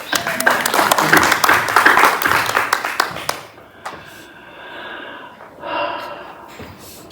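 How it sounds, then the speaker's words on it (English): An audience at a Sunday church service applauds in a dense round of clapping that fades after about three seconds, followed by quieter room sounds and breathing. "Let's give them another round of applause."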